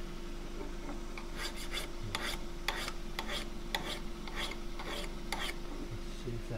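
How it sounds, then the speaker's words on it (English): Someone hones the top of a woodturning tool, giving a steady series of dry rasping strokes repeated about a dozen times, close and clear over a faint background hum with no talking. "But I might just hone the top and get a little bit of a burr on the side."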